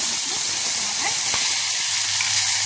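Onion fries in a little hot oil in a wok, giving a continuous close hiss and soft sizzle with faint crackles throughout.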